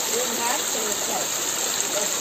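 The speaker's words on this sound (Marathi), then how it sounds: "पाण्याचा आवाज बघा कसा येतो इथे. वा वा, छोटा झरणा आपला." A small waterfall sends out a continuous rushing gush of flowing water, close by and steady, with bird-like chirps faintly over it.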